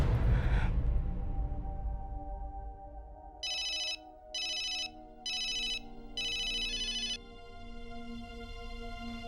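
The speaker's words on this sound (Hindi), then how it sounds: "फोन लगाते हैं।" A telephone rings in a drama scene with four evenly spaced electronic trills that follow a fading resonant chime, set against a quiet held musical tone and no speech.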